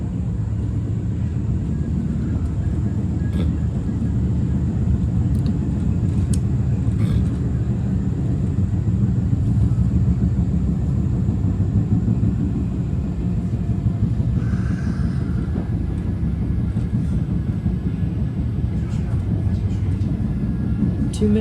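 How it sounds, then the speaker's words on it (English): A Caltrain passenger train pulls into Millbrae Station with a constant low rumble and roar heard from on board, and brief squeals and clanks rise over it. "Here we are pulling into Millbrae Station."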